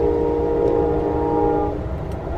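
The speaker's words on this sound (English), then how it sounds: "that's the train horn" An Amtrak train sounds its horn in a loud, sustained multi-tone blast that cuts off partway through, over a constant heavy rumble of the moving train heard from on board.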